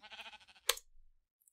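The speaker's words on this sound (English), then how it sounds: "Let's tag that sheep." A sheep in the video game Minecraft bleats once, a short, close, wavering call, followed by a single sharp click and then near silence.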